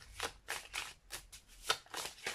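A deck of oracle cards is shuffled by hand in a series of quick, crisp riffling bursts, about eight in a row, close and fairly quiet.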